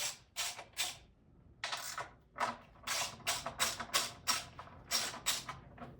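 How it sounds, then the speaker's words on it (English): A ratchet wrench loosens 10mm nuts on a Toyota Corolla's plastic engine cover. Quick clusters of clicking and ratcheting come in irregular bursts, close-up with a faint background hum and no talking. "So this plastic cover on the Corolla is connected by 4 10mm nuts and bolts. So we're going to take it off here."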